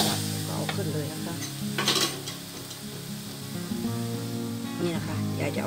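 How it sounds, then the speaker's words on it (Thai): Fish stir-frying in a pan for a spicy Thai dish, a continuous sizzle with utensils stirring and scraping, close and fairly steady throughout. "เอาเนื้อปลาลงเขาจะผัดนานนะคะ"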